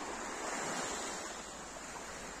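Calm Baltic Sea waves washing onto a sunny beach on a quiet morning, a soft continuous hiss of surf and gentle wash, steady and fairly faint, with no voices.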